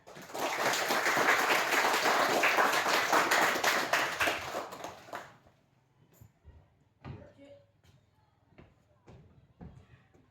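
A small group of children claps together in a classroom during a Christian religious education lesson, several seconds of lively clapping that stops abruptly, followed by sparse knocks and faint room sounds.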